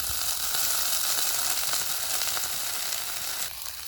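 Wood ear fungus is stir-fried in a pan with boiled dock leaves, giving a loud, steady, close sizzle and hiss of frying that continues without a break and eases slightly near the end.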